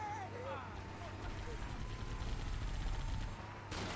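Gunfire from the video game Halo: Combat Evolved in The Master Chief Collection, dense crackling shots running steadily under game engine noise and voices, with a brief break near the end.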